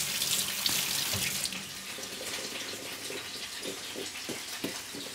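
Water runs steadily from a kitchen tap during cooking, a continuous hiss with some splashing and clinks of dishes or pans underneath, fairly close, no talking.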